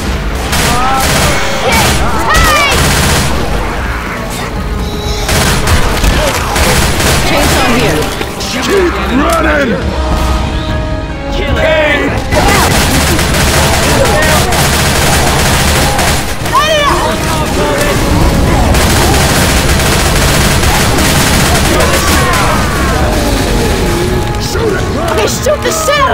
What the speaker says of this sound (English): I shoot the shit out of that thing!